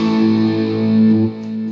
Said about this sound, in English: There, the distortion again.